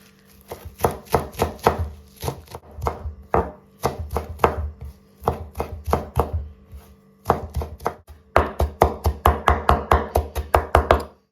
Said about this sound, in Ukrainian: І дрібненько нарізаємо